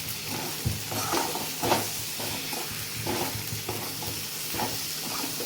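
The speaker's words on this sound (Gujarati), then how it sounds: "ધીમે ધીમે સરસ મજાનું આપણે હલાવી લઈએ" Okra and potato curry stirred in a frying pan on low heat, a steady sizzle with soft scraping strokes of the spoon at an irregular pace, close and alone.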